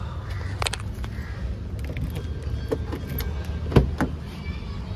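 Car power windows being lowered in a parked car in the shade, heard as brief motor whirs and clicks amid outdoor ambience, with a louder thump near the end.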